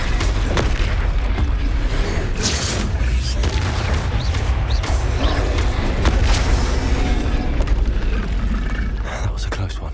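Bombarda blasting spell exploding in Hogwarts Legacy on PS5, heavy booming blasts amid dense combat noise, loud and continuous, with voices calling out spells over the din.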